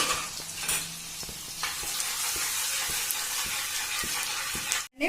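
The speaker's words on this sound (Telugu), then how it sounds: "మనం కట్ చేసుకున్న ఫస్ట్ వెల్లుల్లి వేసుకోవాలండి. బాగా బ్రౌన్ కలర్లో ఫ్రై చేసుకోవాలండి వెల్లుల్లిని." Cut garlic sizzles steadily in hot oil in a kadai, a dense broadband crackle with a few light scrapes and stirring clinks, close and continuous before cutting off abruptly near the end.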